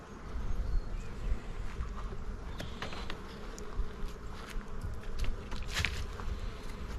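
Bees buzzing from an opened hive whose upper box holds ten full frames, a dense steady drone close by with scattered brief clicks and knocks of hive handling, no voices.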